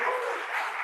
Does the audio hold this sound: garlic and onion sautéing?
no